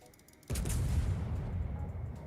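Warship main guns fire a single heavy salvo in World of Warships, a sudden loud boom that rolls into a long rumbling tail.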